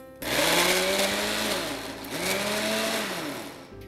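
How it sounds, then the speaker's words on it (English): A kitchen blender blitzing sweet potato tikki ingredients into a coarse paste, a loud close whirring motor that dips in pitch as it bogs down, then picks up and winds down again. "And now we're gonna grind this into a coarse paste"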